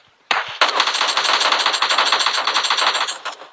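Video game gunfire rattles out as one long rapid automatic burst, loud and close, running steadily for about three seconds with no talk.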